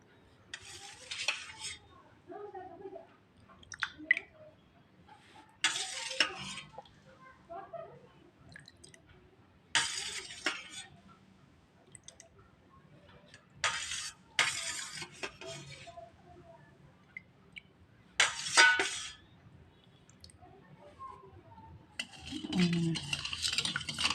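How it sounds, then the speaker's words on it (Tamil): Cut jelly pieces are stirred into an Iftar drink. A spoon clinks and scrapes against the vessel in several separate bursts, with soft wet squishing and quiet gaps between the stirs. "இந்த கட் பண்ணி வச்ச ஜெல்லி பீஸை வந்து இதில் கலந்துக்கலாம்"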